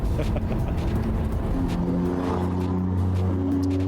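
Car engines rumble and hum in a steady roadside din on a busy Philadelphia street, with vehicles idling and revving nearby and continuous traffic noise throughout.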